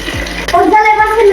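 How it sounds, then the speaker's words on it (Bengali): Rice and lentils being washed in water for khichuri, a brief burst of close sloshing and running water with a voice faintly present. "ধুয়ে নিতে হবে।"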